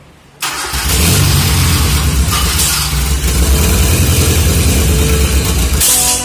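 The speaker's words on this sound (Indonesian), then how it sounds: "lalu kita coba menyalakan starternya." A Toyota Kijang 5K petrol engine with freshly adjusted valves catches on the starter and quickly settles into a loud, close, rough-running roar that holds steady to the end.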